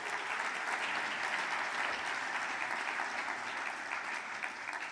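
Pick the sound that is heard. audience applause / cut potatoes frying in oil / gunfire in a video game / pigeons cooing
audience applause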